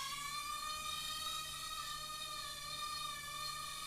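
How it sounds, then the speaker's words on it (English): A JJRC H20 micro hexacopter lifts off indoors, its six small rotors giving a steady high-pitched whine that stays level and close throughout. "let's give it a little bit of throttle and take her up, see how she does"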